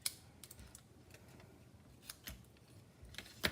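Scissors snip through a strip of paper in a few sharp, quiet cuts scattered across a near-silent moment, with the crispest snips at the start and end.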